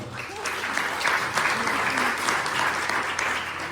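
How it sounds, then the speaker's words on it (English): A congress audience gives steady, moderately loud applause to welcome a speaker to the stage, a continuous wash of many hands clapping with a faint voice underneath. "So a big applause for Karin"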